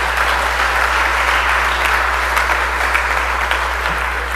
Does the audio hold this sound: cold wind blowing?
no